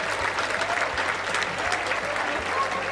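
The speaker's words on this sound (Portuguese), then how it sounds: "Caralho, palmas pro Lucas Luco," Steady applause from a crowd, dense continuous clapping throughout, with faint voices mixed underneath.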